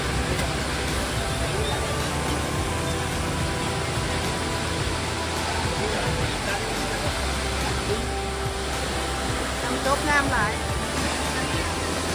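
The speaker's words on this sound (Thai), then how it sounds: "น้ำตกน้ำเนาะ" A waterfall in Alaska roars as a steady, dense rush of water that fills the whole clip without pause, with people talking over it.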